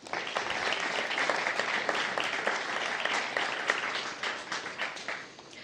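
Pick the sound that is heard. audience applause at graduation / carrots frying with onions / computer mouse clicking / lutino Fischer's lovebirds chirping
audience applause at graduation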